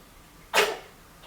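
One sharp sneeze bursts out loud and close after a quiet pause, a single explosive blast that fades over about half a second in a calm indoor room.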